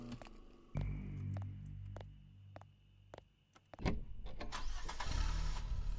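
A truck engine cranks and catches in a video game, settling into a steady mid-pitched idle, with a few clicks and a rising rev before it runs on loud and close.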